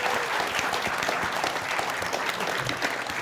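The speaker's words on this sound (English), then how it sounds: "Round of applause," A crowd at a Creative Assembly game jam applauds a team presenting their game, giving a broad wash of clapping that stays even and moderately loud throughout.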